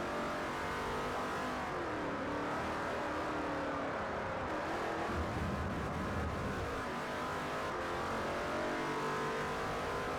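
Race car engine in the driving game Forza Motorsport 4, a loud continuous high-revving roar climbing and dropping through gear shifts over its full length.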